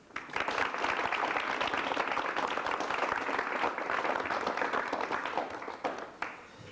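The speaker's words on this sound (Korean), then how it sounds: "여러분 우선 두 분을 박수로 환영해 주시기 바랍니다." Studio audience applause welcoming two guests onto a Korean broadcast, with dense, even clapping throughout that fades out near the end.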